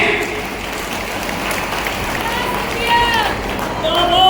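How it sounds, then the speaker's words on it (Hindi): A crowd applauds at a Ladli Behna Raksha Bandhan festival in Manas Bhawan, Shivpuri. The steady clapping is mixed with crowd noise, and voices rise over it toward the end. "अब अच्छी तालियां बजी।"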